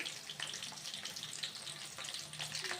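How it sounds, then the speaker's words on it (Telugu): Onions fry in a pan for a cabbage stir-fry, giving a soft, crackling sizzle that comes in uneven bursts and stays faint and close, with no talking. "ఆనియన్స్ వేస్తున్నాం. ఈ ఆనియన్స్ బాగా వేగాలండి."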